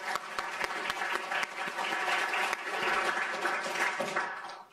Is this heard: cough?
no